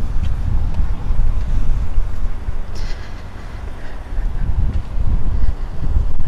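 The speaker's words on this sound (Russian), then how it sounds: "Ветер, конечно, сильный" Strong gusting wind buffets the microphone outdoors in Chernomorskoye, Crimea, a steady loud low roar with rising and falling surges throughout, no voices.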